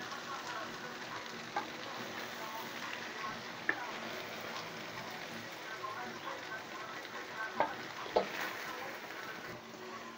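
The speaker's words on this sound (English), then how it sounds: "Now you continue stirring it. Allow it to bubble a bit after stirring it." Spaghetti in a pan bubbling and sizzling steadily while being stirred, a constant crackling hiss with a few small clinks, fairly quiet and close.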